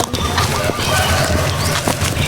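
Free-ranging chickens at a rural home cluck and squawk close by in a busy, continuous flock chorus, with no speech over them.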